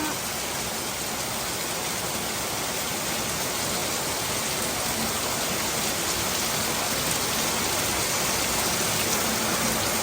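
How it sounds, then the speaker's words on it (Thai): Steady rain falls around midday in Vientiane, Laos, a dense, even hiss of drops that keeps up without a break and without voices. "อันนี้ตอน12 โมง แบบฝนตกแห้งๆเลยทุกคน"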